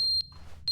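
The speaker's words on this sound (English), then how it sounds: "Oh, fire alarm? Since when was that there?" Electronic fire alarm in The Stanley Parable giving two short high beeps, one at the start and one at the end, with a faint low room hum between.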